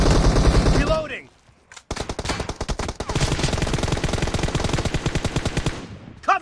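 Rapid automatic gunfire from a PUBG Mobile warehouse fight, loud and near, a short burst, a pause, then a long sustained stream of evenly spaced shots, with brief game voice callouts at the start and end.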